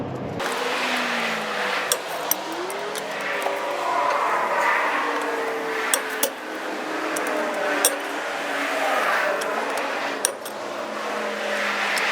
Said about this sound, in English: all you hear isn't just cars going by